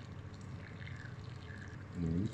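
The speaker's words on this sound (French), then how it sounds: "Je viens juste compléter un petit peu avec du bouillon." Broth is poured into a chicken tajine with dried apricots, a faint trickle building to a brief fuller splash near the end.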